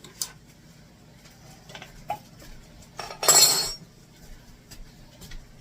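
A utensil stirring fried rice with eggs and shrimp in a pan, giving sparse light scrapes and clinks, then a brief louder scraping rustle near the middle over a quiet kitchen background.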